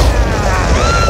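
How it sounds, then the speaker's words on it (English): A deep, rumbling explosion booms in an animated fairy-tale scene, one loud sustained blast filling the whole moment with low roar and no talk over it. "An explosion rocked the entire Garden of Eden."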